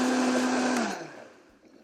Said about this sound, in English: we're going to blend the ingredients until they're smooth